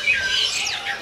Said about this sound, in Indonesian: Nah ini di tengah-tengah ada merbah jambul nih.